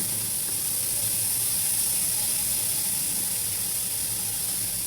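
Chopped onion and green chili sizzle in hot oil in a pan where fish was just fried, a steady, loud, even hiss running unbroken throughout with no talking.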